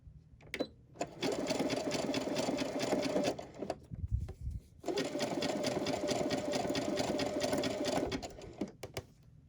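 A sewing machine runs a satin stitch around a fabric postcard in two long, steady stretches of rapid stitching, separated by a brief pause with a soft thump. It is close and clear, with no talking.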